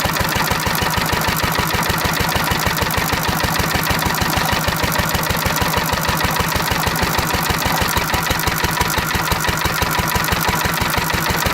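An engine running on pure SeaFoam fuel idles roughly and misfires, giving a steady, loud, rapid pulsing chug throughout with no talking.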